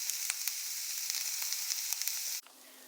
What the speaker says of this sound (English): So I'm just gonna let it saute for, I don't know, like 5 or 6 minutes until the onions are completely a little bit more translucent.